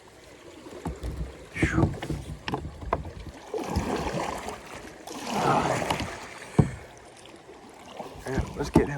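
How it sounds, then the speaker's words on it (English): A kayak pushes through rapids on the New River during a fishing trip, with rushing, splashing water and paddle strokes surging in uneven bursts, close to the mic, and a man briefly exhaling and talking over it. "I gotta get out of these rapids first"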